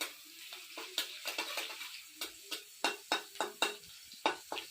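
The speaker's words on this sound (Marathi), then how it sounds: "लाल होईपर्यंत त्याला थोडंसं परतून घ्यायचं" Garlic frying in a pan gives a soft background sizzle broken by a run of close, crisp scraping and stirring taps, spaced irregularly.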